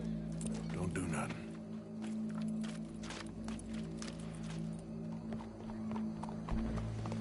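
Horse hooves clip-clop steadily in Red Dead Redemption 2, mixed with a low droning background and occasional other noises.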